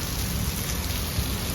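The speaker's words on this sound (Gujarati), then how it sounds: "વરસાદ રસ્તામાં એક જ ધારો ચાલુ હતો." Heavy, steady downpour while travelling, a dense continuous hiss of rain with no gaps, loud and close, no voices.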